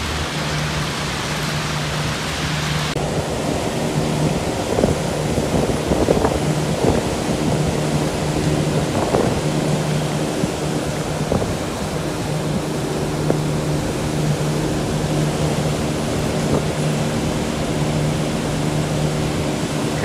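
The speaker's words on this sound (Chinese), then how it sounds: "可以看到它的机组一直在运作的声音哈" Drainage pumping station units running during a typhoon give a steady machine hum with tonal drone, mixed with rain and wind noise and a few faint knocks, continuous and fairly loud.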